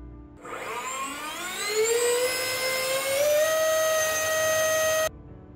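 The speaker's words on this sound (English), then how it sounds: "First, the fan accelerates to the condition." A fan spins up from idle toward operating speed, its whirring tones climbing steadily and then leveling into a loud, constant whine before cutting off abruptly.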